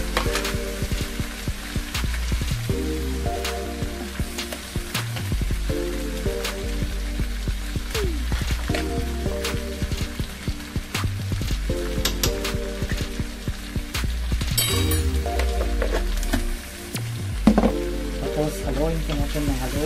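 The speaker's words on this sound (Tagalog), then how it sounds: "Haluin po natin ng haluin para malaman na paglasa siya" A barbecue-flavoured pork and chicken mixture fries loudly and continuously in a pan, with a dense crackling sizzle and frequent spatula scrapes and knocks as it is stirred over and over.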